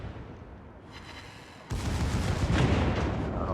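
Secondary guns of the battleship Massachusetts firing in a naval video game: a muffled shot, then a sudden loud burst of rapid cannon blasts and rolling booms that keeps thundering to the end.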